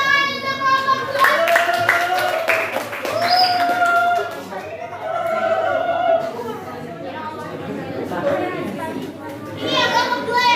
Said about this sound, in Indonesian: Kasih tepuk tangan untuk kelompok 2.